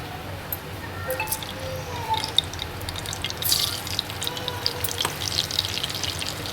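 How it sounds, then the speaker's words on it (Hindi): Butter melts in hot oil that was earlier used to fry onions, giving a steady moderate sizzle with scattered pops and crackles, some sharper, and no talking. "बटर को पहले अच्छे से मेल्ट हो जाने देंगे।"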